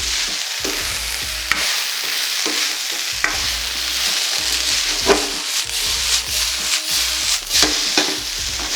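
Thai vegetable fried rice being stirred and mixed in a pan with pumpkin and Thai basil, a steady scraping and rubbing of the utensil over a soft sizzle, close and continuous with no talking.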